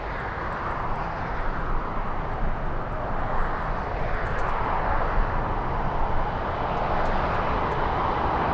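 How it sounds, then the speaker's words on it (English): A jet airliner takes off at Los Angeles International Airport, a steady, loud broadband engine roar that swells slowly and holds throughout without a break. "Nice takeoff."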